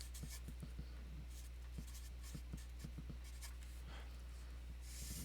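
A math formula being written out by hand during a permutations lecture: a string of quiet, irregular taps and scratches over a steady low electrical hum.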